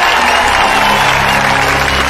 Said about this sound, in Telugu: చప్పట్లు చప్పట్లు.